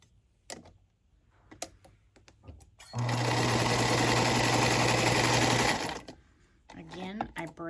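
Sewing machine stitching quilt fabric scraps runs in one steady, loud burst of about three seconds, with brief handling clicks and rustles before and after.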